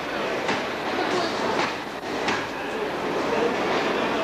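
A train rolls past at a station at night, a steady rumbling wash of wheel noise with faint rhythmic clicks, fairly close and continuous throughout.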